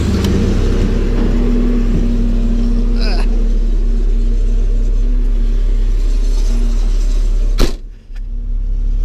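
A small truck's engine rumbles loudly and steadily close by as it idles and drives off, with a sharp knock near the end and a brief dip before the motor continues.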